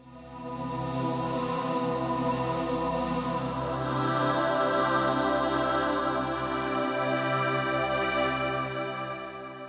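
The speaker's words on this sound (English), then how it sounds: "I'm showing how to make beautiful and atmospheric pads" A soft, sustained synthesizer pad swells in gently and holds a warm, airy chord, evolving slowly before fading at the end.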